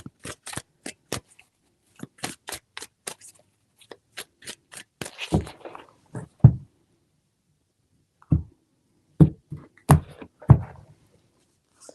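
Tarot cards are handled in a quiet room: a run of sharp, evenly spaced snaps and clicks, then a few duller thumps and slaps as the deck is squared and laid down.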